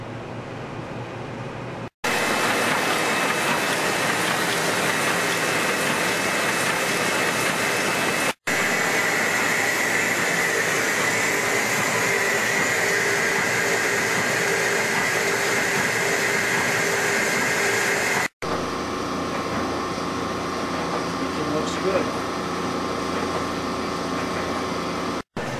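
Digital imaging printing press running, a loud steady mechanical whir and hum that continues unbroken across several joined segments, with no voices.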